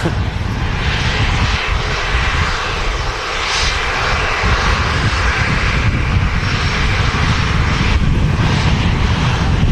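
An Icelandair Boeing 737 MAX 8 rolls down the runway at Manchester Airport with a loud, sustained jet engine roar that holds steady throughout.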